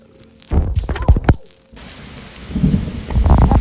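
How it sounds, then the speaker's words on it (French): Rain and thunder in a Roblox video game, with a few loud thunder cracks and booms followed by a steady hiss of rainfall that swells toward the end. "À pleuvoir et à tonnerre."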